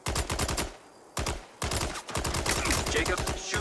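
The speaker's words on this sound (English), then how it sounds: "Shooting these robots will completely corrupt the data." Rapid bursts of automatic gunfire blast at robots in the video game Mindseye, loud and close, coming in dense rattling volleys separated by brief pauses.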